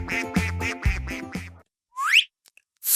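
A duck quacks in a quick run of six nasal calls, then after a short pause a brief rising squeak follows.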